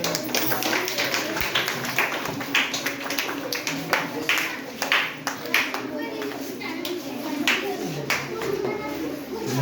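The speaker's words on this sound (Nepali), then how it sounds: "ताली बजाओ" Hand clapping during a Santhali song, a run of sharp claps mixed with singing and voices, fairly dense and uneven in rhythm.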